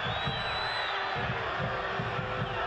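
Stadium crowd at Slugger Field reacting to a foul during a Louisville City FC versus Bethlehem Steel FC soccer playoff match, a steady distant roar of jeers and shouting, with a faint high tone running through it.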